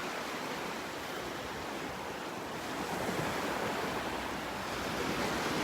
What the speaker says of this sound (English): This is our beach right up here.